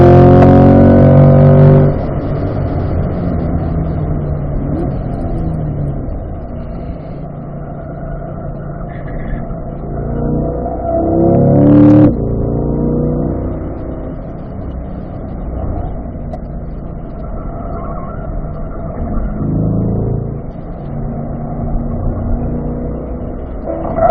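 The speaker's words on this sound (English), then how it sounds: "then on the gas as you start to unwind the steering." A car accelerating out of a corner on a race track, its engine heard loud and close from the cabin, surging and revving repeatedly over a long continuous drone.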